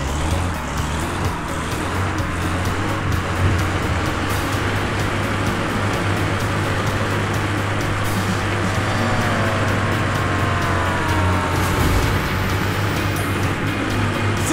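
A toy car races along a track in the Matchbox Driving Adventures video game, its engine drone steady and loud with a constant low hum and occasional rising whines throughout.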